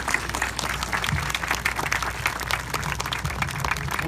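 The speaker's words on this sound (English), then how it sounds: "Big round of applause for our future leaders here." Crowd applause at a September 11 remembrance event, dense and continuous clapping throughout with a low rumble beneath.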